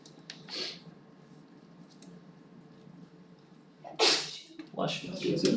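A single sharp sneeze bursts out during a math lesson on radical equations, loud and close against a quiet room hum, with a few softer rustles and clicks around it.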